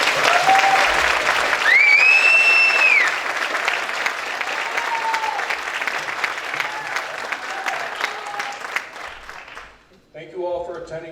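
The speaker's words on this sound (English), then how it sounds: "Please join me in thanking them with a round of applause." A National Honor Society induction ceremony audience gives sustained applause filling a large room, steady clapping with a few whistles that fades out near the end before a voice resumes speaking.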